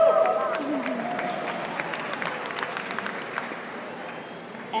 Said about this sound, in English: it's you guys that I hear applauding us